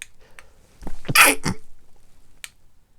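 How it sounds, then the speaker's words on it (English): A few sharp, explosive bursts close together, like a short run of sneezes, with quiet breathing noises before and a faint one after. "I just had a little sneezing fit"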